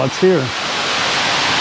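Steady broadband rush of a nearby waterfall on Koh Chang island, a constant hiss continuing after a short spoken phrase at the start.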